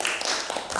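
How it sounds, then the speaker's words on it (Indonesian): Audience applause at a school collaboration session at SMP Negeri 2 Demak, a brief burst of dense, steady clapping from many people. "Tepuk tangan untuk kita semua Bapak Ibu"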